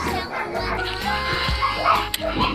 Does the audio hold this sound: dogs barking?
yes